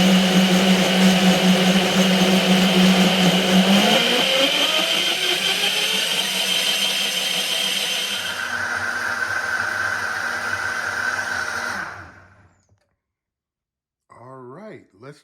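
Vitamix blender running a tomato basil soup, a loud steady whirring roar that shifts pitch partway through, then winds down and stops, followed by a person speaking briefly afterward.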